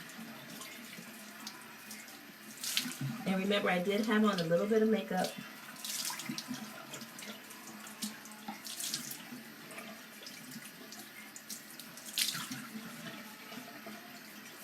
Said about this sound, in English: And right now I'm going to rinse with cold water.